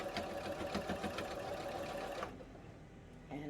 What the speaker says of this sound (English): So I'm going to sew around the collar of this